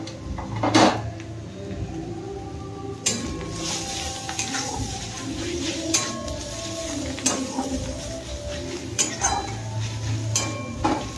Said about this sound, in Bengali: এবারে আমি দেবো রসুন কুচি।